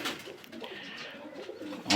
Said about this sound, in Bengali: আমার দেখা টপ কোয়ালিটি মতিওয়ালে কবুতর